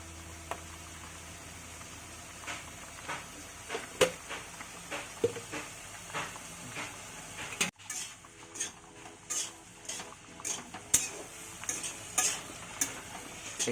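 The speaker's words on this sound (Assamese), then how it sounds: "এইখিনি ভালকৈ অকণমান ভাজি লওক।" Spices with salt, turmeric and cumin fry quietly in a pan for a local Assamese dish, with a soft sizzle under repeated scraping and clinking of a utensil stirring against the pan, rising in short bursts.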